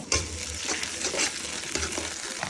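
Ginger and garlic sautéing in a pan, a soft steady sizzle with occasional stirring scrapes, close and fairly quiet, no voices.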